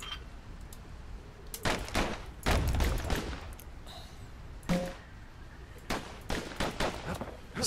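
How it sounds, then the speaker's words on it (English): Twin slinger pistols fire in Bastion, with bursts of rapid, punchy shots in uneven clusters over a steady game background, some volleys dense and overlapping, others single cracks. "Know what's better than having a slinger pistol in a fight? Having two."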